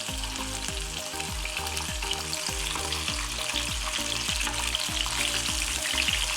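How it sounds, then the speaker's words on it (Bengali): Pointed gourds (potol) sear in hot oil in a pan, giving a loud, continuous sizzle with steady crackling and frequent stirring, and no voices. "অনবরত নাড়াচাড়া করে ঝলসে নিচ্ছি, এতে করে চারপাশটা সমানভাবে হবে।"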